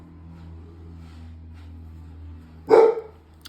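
A pet dog named Leroy barking indoors at home, a single loud close bark near the end after quiet low room hum, with no talk.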